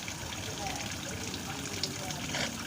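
Water gushes steadily from an external household water filter during backwashing in a soft, continuous trickling rush, while a person talks over it.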